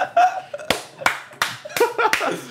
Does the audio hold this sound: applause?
yes